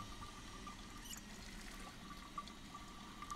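Water pours steadily into water bottles as they are filled in the video game Project Zomboid, a soft continuous trickle that stays fairly quiet throughout, with no talking over it.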